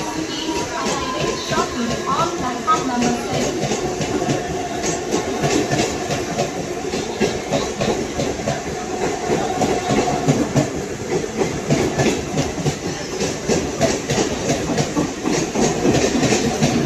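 A Mumbai local train runs past in light rain with a continuous rumble and rhythmic clickety-clack of wagons, heard close and steady throughout.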